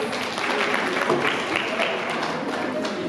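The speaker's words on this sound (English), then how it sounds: "Let's give them a round of applause." Audience applause at a women in agribusiness conference on the Copperbelt, a steady dense wash of clapping holding at even loudness throughout, with some crowd noise mixed in.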